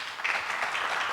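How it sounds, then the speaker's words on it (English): Forum audience clapping to welcome a speaker, an even, continuous patter of many hands at moderate level through a short stretch, with no voices over it. "Please welcome her with applause."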